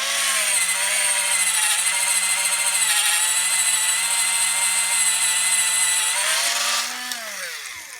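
An old 7.2-volt cordless drill bores through wood with a 1/4-inch bit, a loud, steady high whine with grinding friction that bogs down and drops in pitch near the end.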